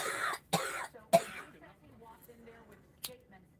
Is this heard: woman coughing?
yes